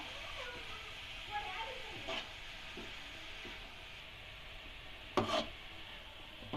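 Grated carrots sautéing in a pan for carrot halwa make a quiet, steady sizzle with occasional scraping stirs and a louder clatter near the end, under a speaking voice.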